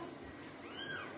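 A mother cat giving birth lets out a single short, faint meow over quiet room noise.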